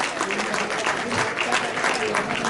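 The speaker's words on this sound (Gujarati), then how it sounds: "આપણે તાળીઓથી વધાવીશું આપણા કલાકારોને." Audience applauding performers at a senior citizens' forum meeting, a dense steady clatter of clapping throughout at moderate loudness, with scattered voices mixed in.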